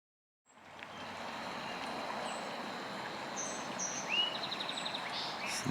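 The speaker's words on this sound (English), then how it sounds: "Nice peaceful noises out here. The birds in the water." Steady rushing of flowing water at Whatcom Falls Park fills the background while scattered small birds chirp faintly above it, the wash constant and moderately distant throughout.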